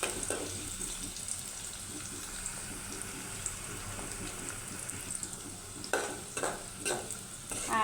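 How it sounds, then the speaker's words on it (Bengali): Vegetables for a vegetable kabsa fry in a pan until golden brown, with a soft, steady sizzle and stirring. A few sharper clinks of a utensil come near the end, all fairly faint and without talk. "এখন এটা সুন্দরভাবে বেরেস্তা কালার হওয়া পর্যন্ত ভেজে নেব"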